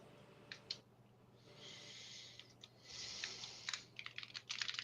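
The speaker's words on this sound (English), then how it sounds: "No, it's my keyboard. I got a mechanical keyboard." Mechanical computer keyboard typed on in irregular bursts, crisp close clicking keystrokes that start sparse, pause briefly, then grow into quicker clusters over a faint steady background hum.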